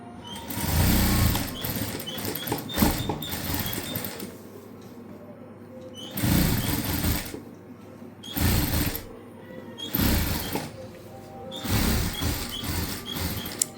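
A sewing machine stitches a back-open, front princess-cut blouse in several loud, rapid bursts, each lasting one or two seconds and separated by quieter pauses.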